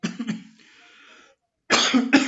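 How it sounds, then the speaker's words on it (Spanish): A teacher coughs during a Spanish-language secondary-school grammar lesson: a cluster of harsh coughs, a short pause, then another loud burst of coughing close to the microphone. "Tuve una tos."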